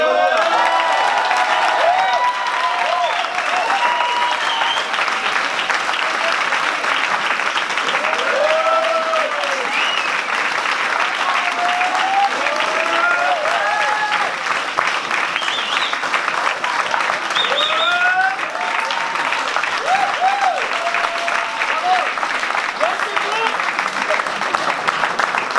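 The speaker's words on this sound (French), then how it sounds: "Vous applaudissez que parce qu'elle est en salle." Prolonged applause from a theatre audience at a comedy show, loud and sustained, with scattered cheers, whoops and voices rising over the clapping.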